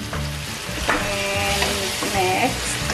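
Chili powder is stirred into a pot of vegetarian Filipino sinigang, with a steady close sizzle and frying sound and a few scraping stirs, no talk.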